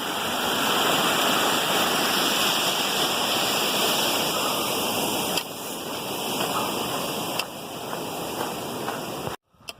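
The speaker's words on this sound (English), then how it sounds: "there's a stream right there" A rushing creek on the Mt. Whitney trail near Lone Pine Lake gives a loud, continuous broadband roar of flowing water heard close up, with brief handling bumps and a sudden dropout near the end.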